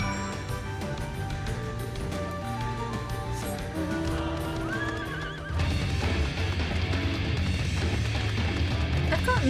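A horse in the video game Final Fantasy XIV neighs and whinnies over clip-clopping hooves, set against continuous layered game music that swells louder partway through.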